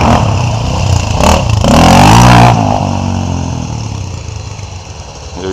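A 1981 IT 250 dirt bike revs hard as it rides past close by on a wet rainforest trail. Its engine note swells to a loud peak midway, then fades as it pulls away.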